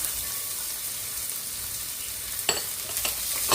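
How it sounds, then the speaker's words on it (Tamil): Garlic sizzles in a pan for a prawn and brinjal gravy, a steady frying hiss with a few sharper stirring crackles toward the end and no voices. "போட்டுட்டு அதையும் சேர்த்து வதக்கி கொள்ளுங்க ஒரு அஞ்சு நிமிஷம் இது நல்லா வதங்கி கொள்ளட்டும்"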